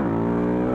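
A motorcycle engine revving hard and holding a high, steady harmonic roar for a wheelie attempt, loud and close.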